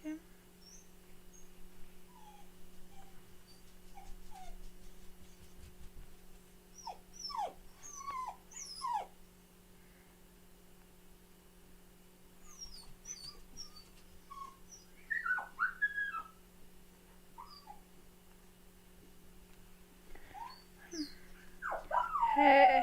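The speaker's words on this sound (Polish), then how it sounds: "mój pies trochę płacze" A dog left alone at home with separation anxiety gives thin, high whimpers and short cries in scattered bursts over a quiet room with a steady electrical hum, growing more insistent toward the end.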